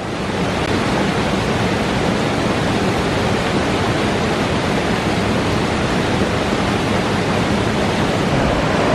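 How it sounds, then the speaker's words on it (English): Whitewater Falls, a large waterfall in the North Carolina foothills, roaring as a dense, constant rush of falling water, loud and unbroken from start to finish, with no voices. "Well, here it is, Whitewater Falls."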